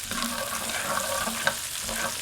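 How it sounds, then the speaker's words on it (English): Sliced garlic frying with bacon in a pan for pork tenderloin medallions, a soft, steady close-up sizzle with faint stirring and no voices. "We're going to add our garlic to it. And we're just going to cook this down just a little bit"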